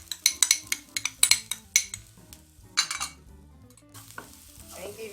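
Garlic and ginger frying in a pan for prawn and scallop fried rice, stirred with a utensil that clinks and scrapes sharply in bursts over a soft sizzle, close up, then quieter frying at the end.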